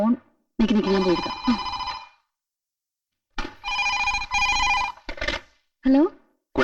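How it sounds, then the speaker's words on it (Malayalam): A telephone rings in repeated bursts with short pauses between them, its bell tone close and loud, with no talk over it. "മേഘയ്ക്ക് ഒരു ഫോൺ."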